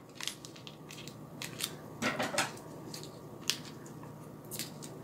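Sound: scissors cutting tape on a paste packet

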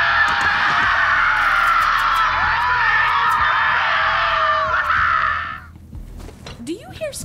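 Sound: screaming in the video game Borderlands 3

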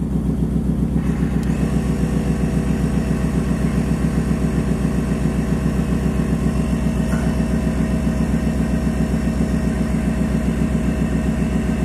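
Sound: air suspension compressor running on 1996 GMC 3500 truck

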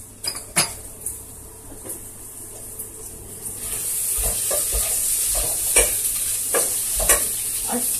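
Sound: stirring red pepper flakes in a cooking pot

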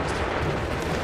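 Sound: musket volley gunfire in video game Assassin's Creed 3

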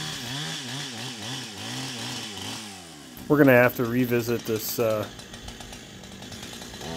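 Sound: Neotech 372 clone chainsaw running

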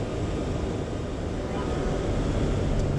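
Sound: 4WD vehicle driving up a sand dune on the beach

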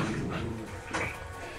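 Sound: small dog whimpering

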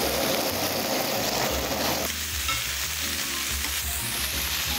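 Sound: Denver cut steak cubes searing in a pan over high heat

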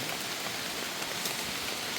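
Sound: heavy rain in the mountain forest

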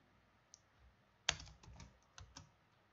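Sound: computer keyboard typing code

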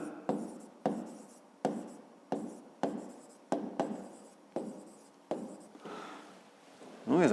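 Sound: writing math on paper

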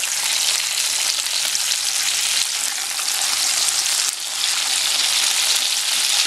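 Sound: salmon steak frying in a pan

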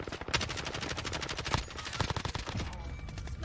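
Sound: gunfire in the Warzone video game

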